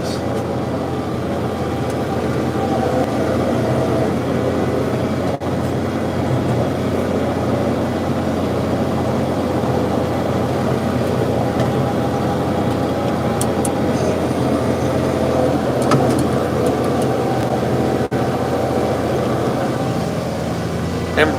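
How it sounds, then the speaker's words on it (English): John Deere 4050 tractor engine working under load while chisel plowing on a farm, a steady close diesel rumble that holds even throughout with light cab rattles and no speech. "We're driving a John Deere 4050 today on the farm, chisel plowing."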